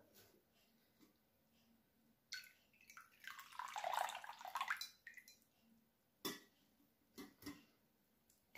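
Water poured into a bowl for cheesy bread dough gives a soft, brief splashing trickle of a few seconds, with faint scattered taps before and after.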